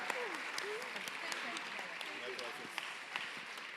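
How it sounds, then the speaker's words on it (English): Steady crowd applause at a startup pitch competition event, fairly faint and continuous, with occasional sharper claps and faint voices mixed in. "Big applause once again for number 2."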